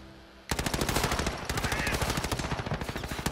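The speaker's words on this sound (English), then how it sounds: "I'm getting shot by your guy to the right." Rapid automatic gunfire rattles in a Call of Duty Modern Warfare 2v2 match, a dense burst of shots after a brief quiet start, loud and continuous to the end.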